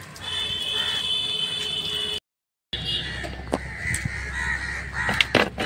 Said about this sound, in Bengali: প্রচুর কাক আজকে, কাকা করছে